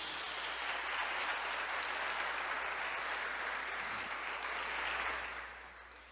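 A Catholic church congregation applauds steadily for several seconds, a dense wash of clapping that fades out at the end.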